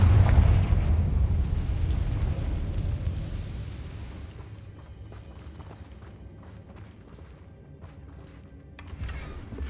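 Confringo, a fire spell in Hogwarts Legacy, lands in a heavy low explosion that booms loudly at first and slowly rumbles away, leaving quiet game ambience with faint crackles.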